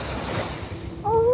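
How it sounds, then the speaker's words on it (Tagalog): Rushing surf and wave wash close by with wind buffeting, a steady roar that briefly swells toward the end. "Alon lang yan eh."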